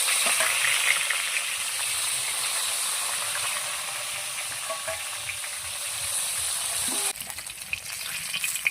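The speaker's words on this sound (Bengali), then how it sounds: "মাছটাকে আমি ভেজে নেব।" Deshi magur catfish frying in hot oil, a steady close sizzle and hiss with faint stirring sounds, continuous throughout with no talking.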